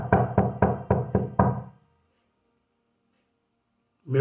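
Someone knocks on a bedroom door: six to seven quick, hard raps in an even rhythm, loud and close, followed by silence and then a sudden loud burst at the end.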